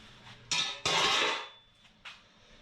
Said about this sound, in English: Pull the windage tray off.